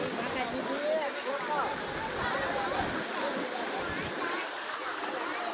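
The swollen Malan River at Mahuva surges past partly sunken vehicles in a continuous, close, hissing rush of fast water, even in loudness throughout, with a voice faintly audible beneath.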